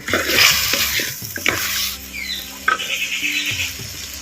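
A spoon scrapes and stirs through a thick, bubbling country chicken curry gravy in a pot, with soft clinks and a quiet simmer underneath.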